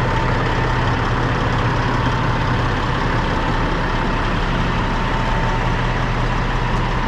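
A 1999 Kenworth W900L truck engine idles steadily, a loud, close, continuous low diesel rumble with no break and no talking.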